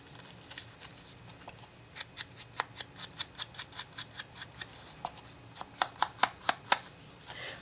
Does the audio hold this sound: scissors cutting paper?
yes